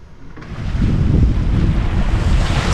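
Waves and strong wind at sea about 30 miles from the Gulf Stream, heard aboard a sailboat racing from Annapolis to Bermuda in 6 to 7 foot swells; a steady loud roar of wind buffeting the microphone with surging water, no talking.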